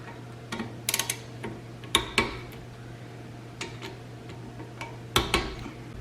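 A torque wrench clicks while wheel bearing bolts are tightened to 20 foot-pounds on a Chevy Equinox or GMC Terrain, giving a scatter of sharp close metallic clicks and ratchet ticks in small clusters against a quiet garage hum.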